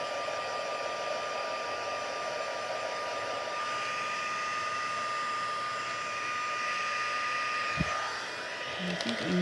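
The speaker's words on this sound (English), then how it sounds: "So I'm going to take my heat tool" An embossing heat tool blowing as it warms up for a handmade Christmas card, a steady close whirring hum with a constant high whine that runs unbroken, with a brief knock near the end.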